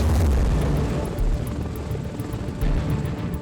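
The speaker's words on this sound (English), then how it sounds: "We are airborne on the V-22 Osprey, a beauty that is both a helicopter and an aircraft." A V-22 Osprey tiltrotor aircraft in flight, heard from aboard, gives off a loud, steady, deep engine and rotor roar that fills the whole stretch without pause.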